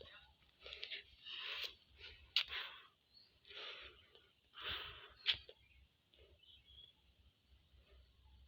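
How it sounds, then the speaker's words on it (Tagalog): A hiker climbing toward Linabo Peak pants heavily, with a run of breathy, rhythmic gasps and a couple of sharper sniffs, close but quiet. "hinto muna tayo dito dahil hinihingal pa ako"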